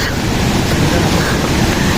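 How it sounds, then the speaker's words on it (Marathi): A small waterfall roars in a loud, steady broadband rush close to the microphone, with some wind buffeting and no talk. "फायनली आम्ही धबधब्याला पोचलेलो आहोत"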